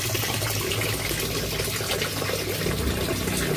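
Water circulates steadily through a rooftop hydroponic celery setup, where a single pump serves two growing installations and one reservoir tank, producing a continuous close rushing, splashing flow with no voices.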